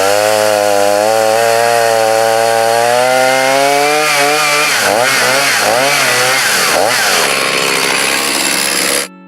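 A chainsaw bucks firewood into sections a little over two feet long. The engine screams steadily and loud close by, dips and labours several times as the chain bites through the wood, then cuts off abruptly.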